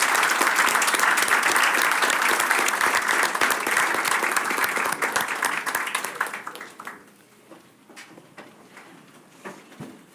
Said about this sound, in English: Can we have another round of applause for our students?